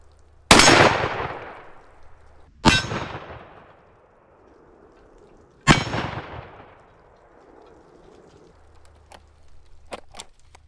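Three sharp, loud reports from a Stoeger Double Defense 12 gauge side-by-side shotgun fired outdoors, spaced a few seconds apart and each trailing off into echo, then a few faint clicks.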